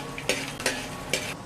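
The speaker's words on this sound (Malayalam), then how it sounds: "ഈ തേങ്ങാക്കൊത്തും വറുത്തെടുക്കാം" Coconut pieces fry in a pan with a soft continuous sizzle, broken by three quick metallic scraping stirs close by.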